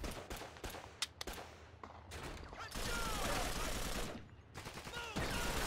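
Gunfire in Call of Duty 2: Big Red One comes as a run of sharp single shots followed by long, dense bursts of rapid fire, close and loud throughout the battle.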